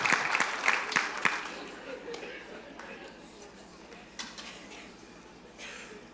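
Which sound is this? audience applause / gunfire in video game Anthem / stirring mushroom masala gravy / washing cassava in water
audience applause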